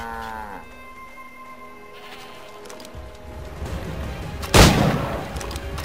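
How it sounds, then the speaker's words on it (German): A goat in Assassin's Creed 3 gives a short bleat at the start. Game ambience follows, then a sharp, loud gunshot near the end. "Dort vorne sind ein paar Ziegen"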